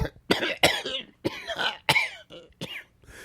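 A person coughs repeatedly in harsh, hacking bursts, several close together, with a bit of throat clearing between fits.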